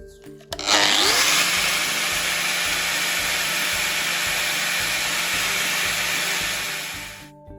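A steady, loud grinding whir runs continuously for several seconds as metal edges are ground off during a Dana 30 differential skid installation, starting abruptly and tapering off at the end, with no talking.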